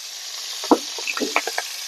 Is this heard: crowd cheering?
no